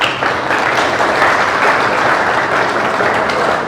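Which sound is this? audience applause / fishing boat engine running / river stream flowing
audience applause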